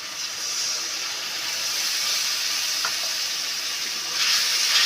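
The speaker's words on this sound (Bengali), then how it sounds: "এখন একটু নেড়ে নেব।" Fish curry in a pan gives off a steady close sizzle and hiss, with one brief utensil tap partway through and the frying swelling slightly louder near the end; no one speaks.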